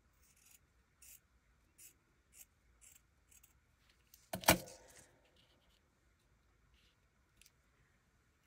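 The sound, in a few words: scissors cutting paper ear shapes for cards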